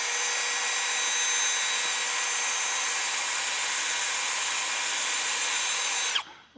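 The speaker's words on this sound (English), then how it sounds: "we can take a die grinder and go ahead and wobble out that hole a little bit" A die grinder enlarges a bolt hole while Air Lift LoadLifter 5000 Ultimate air helper springs are fitted to a 2024 truck. It gives a loud, steady high-pitched whine that runs unbroken, then winds down abruptly near the end.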